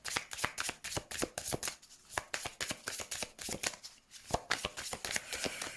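Tarot cards are shuffled in quick repeated riffles and slaps during a reading, a crisp papery rhythm close to the microphone with no talking.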